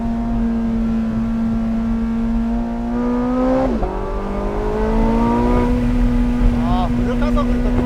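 Porsche 918 Spyder hybrid accelerating hard out of a corner: a close, steady engine tone dips briefly, then climbs in pitch as the power comes on, with a voice talking over it.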